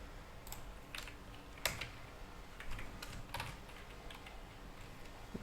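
Keys tapped on a computer keyboard while JavaScript/TypeScript code is typed, quiet irregular bursts of clicks separated by short pauses, fairly close and alone with no talk.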